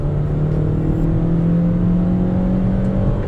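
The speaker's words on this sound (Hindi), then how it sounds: "सेकेंड गियर में भी व्हील स्पिन करती है गाड़ी" A 2021 Honda Amaze BS6 sedan accelerates hard in second gear with wheel spin, its engine droning loud and close in a steady, rising revving note.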